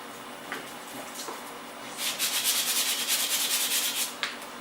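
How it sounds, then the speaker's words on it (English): Sandpaper rubs across a handmade wooden sword, starting as light scattered scratches and building into a denser, rhythmic back-and-forth rasp for the last couple of seconds. "just sand out a bit"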